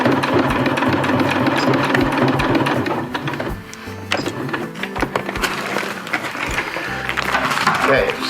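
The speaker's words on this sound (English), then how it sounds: "do a lock stitch though this time." A sewing machine stitches a lock stitch on Dyneema fabric up close, its rapid clattering run slowing and stuttering midway before resuming, with talk occurring around the machine noise.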